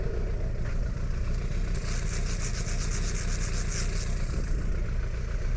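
Motorcycle engine left idling after an emergency braking test on a slightly damp surface, a steady low rumble running throughout with faint higher mechanical whine in the middle.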